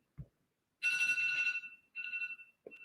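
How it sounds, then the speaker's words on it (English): A phone alarm rings from across a room, two bright tonal bursts of ringing with a brief gap between them, a third starting at the end; one short low thump comes just before the first burst. "my alarm's going off, and my phone is across the room"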